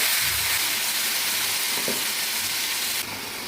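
Lentils tempering in hot oil in a home kitchen, a steady broadband sizzle and crackle of frying that holds at an even, close level throughout with no talk.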